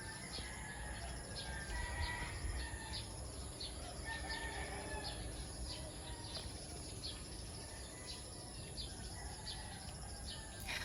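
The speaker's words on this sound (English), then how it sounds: "Even the birds are still sounding like they always do." Roosters crow repeatedly among other birds calling in the calm early morning before Storm Pepito (Man-Yi), with steady background bird chatter and distant ambience throughout.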